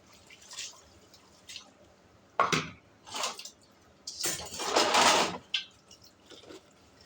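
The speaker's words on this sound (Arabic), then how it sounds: "الاطباق انا بحب اغسلها كلها مره واحده وارجع اشطفها كلها مره واحده" Dishes are washed and rinsed with water in a home kitchen, heard as intermittent splashes, drips and short bursts of running water, louder near the end, with no talk.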